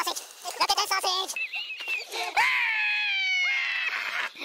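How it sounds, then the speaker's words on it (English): Loud, shrill screaming close by, with shrieking rising into a long, sustained high wail. Excited voices are heard just before it. "You scream like girls."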